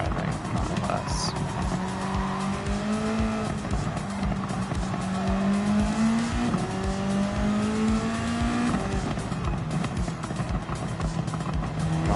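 Race car in Gran Turismo 7 driving hard, engine note climbing and dropping through gear changes with tire squeal along the way, loud and continuous, with a voice speaking over it.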